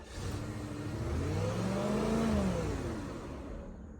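A Cadillac DTS convertible engine, previously flood-damaged, revving up under throttle toward redline, a rising whirring drone that builds, holds near its peak, then eases back down, close by with no talk.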